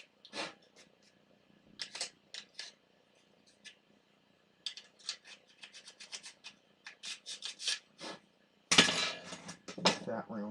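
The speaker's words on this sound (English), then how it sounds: "Hit it with a coarse rat tail file and really gouge it out, and it'll stick pretty good." Coarse rat tail file rasping and gouging at a workpiece in short, scratchy bursts, sporadic at first and then quicker and louder toward the end, heard close up in a quiet room.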